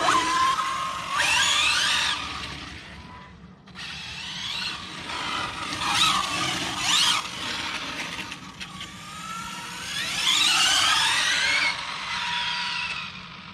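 ARRMA Infraction v2 RC car with a Hobbywing Max6 1650kv motor running on a wet track, its high electric whine rising and falling in repeated passes while tires hiss and spray, moderately loud and close.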